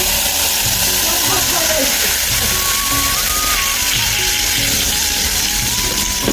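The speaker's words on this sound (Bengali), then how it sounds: "তেল গরম হয়ে গেছে, এখন আমরা ডিম দিয়ে দিব" Eggs crackle and sizzle loudly in hot oil in a wok for green fried eggs, a dense, constant frying hiss filling the whole stretch, with faint voice-like tones underneath.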